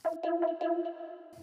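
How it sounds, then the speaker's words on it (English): A processed vocal impact sample panned left and right, a short tonal vocal burst with pulsing, chorus-like echoes that sustain and fade over about a second. "here we have this vocal impact that I found, and then I just decided to do like a left-right panning"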